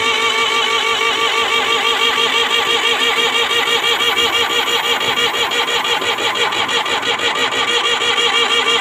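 Engine starting and held at steady high revs, a loud, continuous, close mechanical drone with a fast, even pulse throughout.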